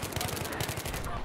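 Enemy gunner firing a machine gun in a military video game battle, a steady rapid burst of close gunfire running through the whole moment with faint voices mixed underneath.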